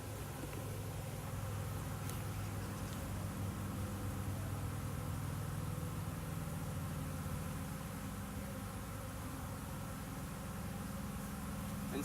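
Dense, steady buzzing of many honeybees in a five-frame nuc hive, a constant close drone that fills the whole stretch without pause.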